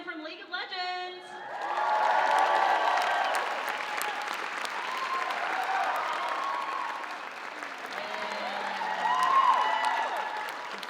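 Audience applause and cheering at a cosplay parade and catwalk at PAX Aus, a broad, sustained wash of clapping with whoops that swells and dips over about eleven seconds; a brief voice is heard at the very start.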